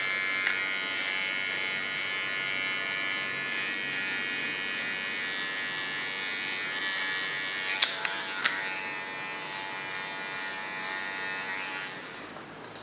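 An electric hair clipper with its blade set to the closest one-millimetre position buzzes steadily while trimming a hairline contour, with a couple of brief clicks near the end and no talking.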